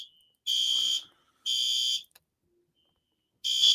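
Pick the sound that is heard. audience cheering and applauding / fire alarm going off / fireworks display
fire alarm going off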